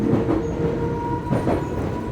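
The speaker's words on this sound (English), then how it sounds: "this is the only point of call where the train has actually sped up." Train on the Isle of Wight line toward Ryde, heard from on board as a steady rumble of wheels on rails with clicking joints and a faint tonal whine, continuous and close.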